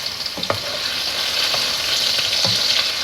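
Beef patties fry in a pan with a steady, close sizzle that continues throughout, broken by a few soft scrapes or stirs.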